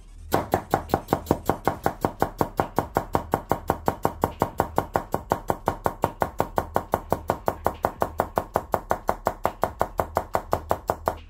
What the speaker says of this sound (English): It's not going completely through when fast chopping.